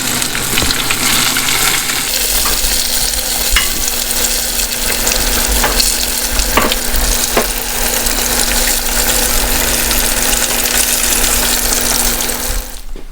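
Breaded fried chicken sizzling in hot oil, a dense steady crackle and hiss filling the whole stretch, close up with a low hum underneath and occasional sharper pops.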